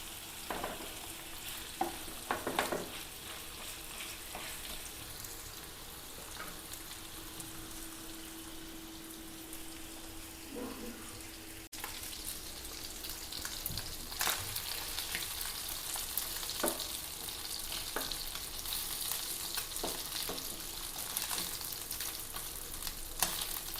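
Vila fish (vilameen) fry slowly in a pan over a low flame, making a quiet, continuous crackling sizzle scattered with small pops and spits, with no one talking.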